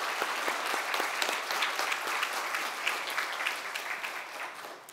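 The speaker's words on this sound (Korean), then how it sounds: "크게 영광의 박수를 돌리겠습니다" A church congregation claps in sustained, dense applause during a Sunday worship service, with steady clapping filling the room throughout.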